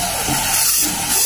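A pressure cooker vents steam in a loud, steady, close hiss that holds for the whole moment while beef pulao cooks.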